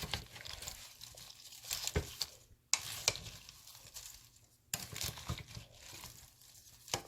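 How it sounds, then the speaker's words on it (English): A spoon stirring seasoned cabbage and sausage soup in a pot, close soft scraping and sloshing strokes with a few sharper clinks against the pot, steady and fairly quiet. "And then I'm just going to stir it."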